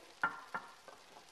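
Chopped onions and celery go into a soup pot for beef barley soup, making a few soft stirring scrapes and quiet sizzles spaced apart, faint and with no voices.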